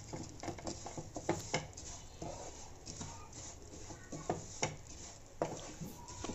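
Semiya (vermicelli) frying in a pan over a low flame for saggubiyyam payasam, giving a steady soft crackle and patter with scattered light taps from stirring, close and fairly quiet throughout.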